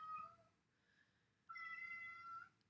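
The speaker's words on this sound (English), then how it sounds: "that was my cat in the background if you heard that" Two quiet cat meows, a short one first and then a longer, drawn-out one after a brief pause.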